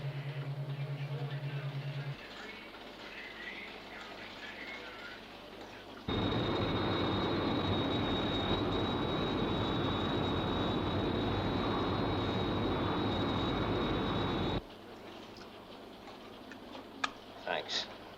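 The Sky 1 interceptor aircraft from the UFO series roars steadily for several seconds, a dense jet rush with a high whine on top, then drops away to quieter sound.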